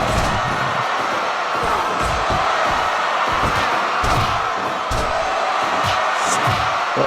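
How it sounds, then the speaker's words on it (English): A loud wrestling arena crowd in the Fire Pro Wrestling World video game roars continuously, with cheering and intermittent thuds of slams and impacts throughout. "The crowd seems really loud for some reason."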